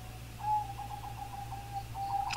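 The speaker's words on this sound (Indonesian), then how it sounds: "Wih, rame perkutut-kut." Zebra doves (perkutut) cooing outdoors near farmland, a run of soft repeated rhythmic coos at moderate distance over a steady low background hum.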